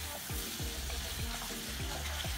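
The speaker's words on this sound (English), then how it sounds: "Mix the meat and the nyanya." Beef and tomatoes for pilau fry and get stirred in a pot, with a steady sizzle under repeated scraping strokes of the spoon, close and without voices.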